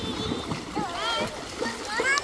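Water from a farmhouse swimming pool splashes and surges out in a busy, continuous wash, close by, while excited voices, including children, shout and talk over it.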